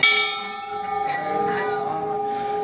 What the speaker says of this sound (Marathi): मंदिराच्या मुख्य प्रवेशद्वारावरती